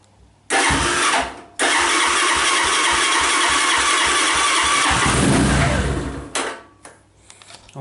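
A Keeway Superlight LTD 125 motorcycle on a cold morning catches briefly and dies. It then restarts and runs at a loud, steady idle for several seconds before cutting out.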